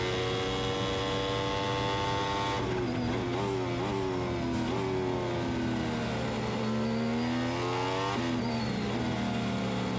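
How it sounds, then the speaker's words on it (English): A Formula 1 car accelerates around the Silverstone circuit, its high-pitched engine whine climbing and dropping repeatedly through gear changes over a constant background hum, loud and continuous with no voices. "when he opens the throttle, it's just gone."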